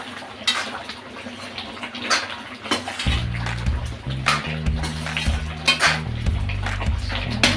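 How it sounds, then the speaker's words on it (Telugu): Chicken curry being mixed with spices and curry leaves, wet sloshing and scraping of a spoon through the thick mixture in a pot, with a low rumble joining partway through. "ఇదంతా వేసుకొని ఒకసారి కలుపుకుందామండి."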